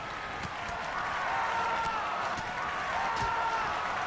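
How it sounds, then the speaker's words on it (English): Arena crowd noise from the WWE 2K19 wrestling video game, set at a Tokyo live show, forms a dense, constant roar. The same looped scream rises out of it twice. "I'm sorry for whatever that scream is in the crowd."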